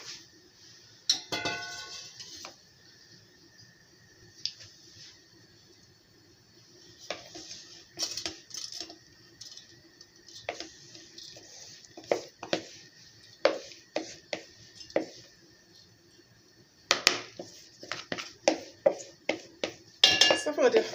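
A metal couscoussier steamer pot is fetched and filled in a kitchen: scattered clanks, taps and scraping knocks, some in quick clusters, with quiet gaps and soft voices in between.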